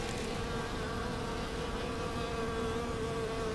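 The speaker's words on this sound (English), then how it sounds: "it's pretty cool to watch the bees hover like they are as their pollen baskets are filled up with pollen substitute" Honeybees hover while their pollen baskets fill with pollen substitute on a beekeeping farm, giving a steady, close buzzing hum that holds without break throughout.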